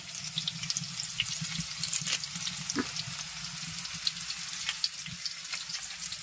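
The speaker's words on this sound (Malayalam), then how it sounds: "കറിവേപ്പില ഇടാം." Curry leaves sizzling in hot oil for a Kerala village-style snake gourd curry, a dense crackling spatter that stays loud and close, with a few sharper pops and no speech.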